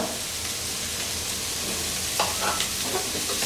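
Chicken fried rice with pepper and pre-scrambled eggs being stirred and mixed in a pan, with soft scraping strokes over a steady low sizzle, a few clearer stirring clicks toward the end.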